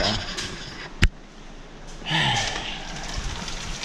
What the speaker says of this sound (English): there's the rain, man.